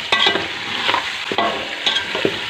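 Beef bone pieces for nihari are stirred in a pan of browned onions, with quick, close scraping strokes over a steady sizzle and frying crackle.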